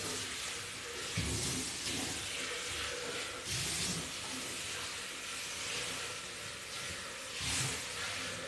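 A Thermomix bowl rinsed under running water, giving a continuous hissing rush with a few louder splashes and swells, close to the mic.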